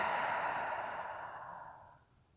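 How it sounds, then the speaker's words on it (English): Slow, focused breathing, a single long, close exhalation that fades gradually to quiet. "Starting with some nice, even, focused breathing."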